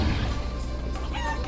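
Chicken clucking in the video game Guacamelee, a short burst of close, busy fowl clucks over a dense game soundscape with no talk.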